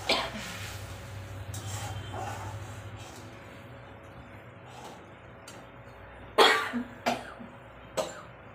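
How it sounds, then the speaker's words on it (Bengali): An adult coughs in a home kitchen, several short sharp bursts near the end after a quieter stretch with faint background hum. "কাশিটা আমার থেকে থেকেই হচ্ছে গো, বন্ধ হচ্ছে না।"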